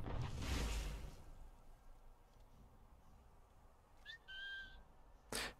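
A single short, rising whistle from Assassin's Creed 3 in the Tyranny of King Washington content sounds faintly over quiet in-game ambience, with no talk.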